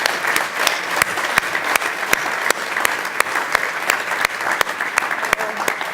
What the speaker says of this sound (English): please give a warm round of applause to our special VIP guest and ski star, Tina Maze.